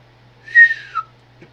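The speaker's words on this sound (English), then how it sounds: "There's my whistle." A whistle gives one short, shrill blast followed by a brief second chirp, fairly close and clear against near silence, with a small knock at the end.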